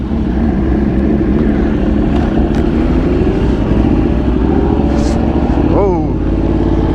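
A 2021 superbike, one of a Fireblade SP, ZX10R, S1000RR or Ducati, ridden hard: a loud, constant engine roar that drowns the mic, with a brief rising rev sweep near the end.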